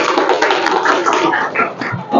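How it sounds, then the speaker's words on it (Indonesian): Audience applause in a classroom during a teacher-training presentation session, a dense wash of many hands clapping steadily and fairly loud throughout, with some voices mixed in. "Silakan, beri tepuk tangan."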